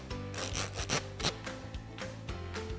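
Quick rhythmic scraping on a reco-reco percussion scraper, up close, with short rasping strokes repeating steadily and a few louder accents early on.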